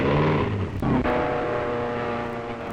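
Racing car engines at the Indianapolis speedway roar in a loud, sustained drone with shifting pitch, with a brief dip around the one-second mark before the steady roar continues.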